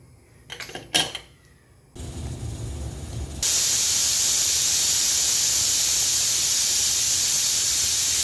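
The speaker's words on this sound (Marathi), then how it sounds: "आता आपण शिट्ट्या करून घेऊया" Pressure cooker full of chole letting off steam, a couple of brief rattles giving way to a loud, steady hiss that grows louder and holds to the end.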